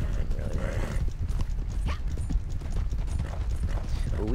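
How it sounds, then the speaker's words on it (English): Horse hooves clip-clopping on the ground in the video game Fallout 76, a steady, moderately loud run of hoofbeats over low game ambience. "I was gonna try to jump on this horse"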